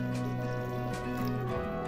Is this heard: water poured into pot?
yes